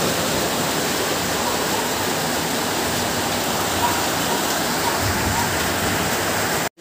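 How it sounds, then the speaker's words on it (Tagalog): Heavy rain and rushing floodwater roar as a dense, unbroken wash during Typhoon Carina by the swollen Wawa river in Montalban, Rizal, steady and loud throughout before cutting off abruptly at the end. "At ayaw pa rin tumigil ng ulan"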